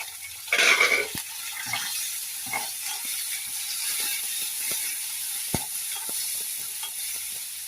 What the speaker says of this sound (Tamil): நல்லா வதங்கட்டப்பா